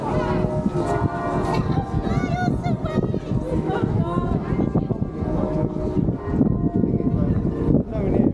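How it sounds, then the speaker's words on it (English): Church bells ring out at a distance at 8 o'clock in Nottingham, UK, in December, with sustained, overlapping tones while a person talks over them amid outdoor bustle. "You can hear the bells ring now."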